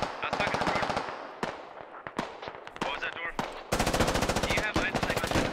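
Sustained automatic rifle fire in a military video game, a player returning fire with an AR during a Russia-versus-US squad operation: rapid loud bursts, several volleys with brief pauses and sharp single shots between them, close and dominant throughout.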